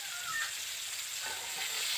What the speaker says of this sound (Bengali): এবার সব কিছু একসঙ্গে ভালো করে ভেজে নেব।